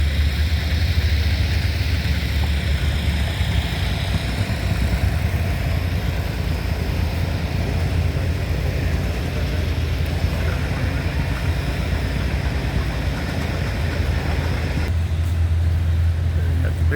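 Tractors run at a steam engine show near the pulling competition, their engines giving a continuous, fairly loud idling drone with rough low rumble from nearby.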